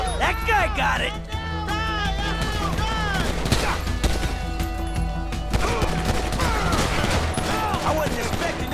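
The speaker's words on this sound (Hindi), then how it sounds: "ये फायरिंग मेरे घर के पास ही हो रहा है" Rapid gunfire crackles through a GTA 5 shootout, with repeated automatic bursts layered over constant game music and effects, loud and close, while voices talk over the action.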